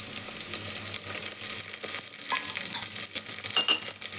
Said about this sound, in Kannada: ಇವಾಗ ನೋಡಿ, ಸಾಸಿವೆ ಸಿಡಿತಾ ಇದೆ.